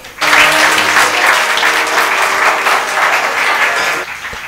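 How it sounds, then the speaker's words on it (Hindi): Loud, close audience applause after a Kajri vocal performance at a Varanasi youth music event, bursting in suddenly and holding a full steady clatter of many hands for about four seconds before cutting off. "एक बार जोरदार तालियां बजा दें"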